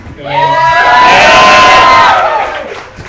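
The audience at a tech meetup erupts in loud, close cheering, shouting and whooping that swells for about two seconds and then fades, with no talk over it.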